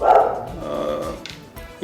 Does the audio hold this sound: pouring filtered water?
no